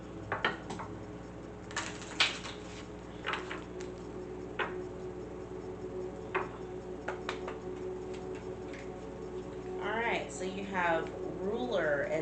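Tarot cards shuffle in quick crisp riffles and taps, a close and fairly quiet flurry, with a faint voice-like murmur toward the end.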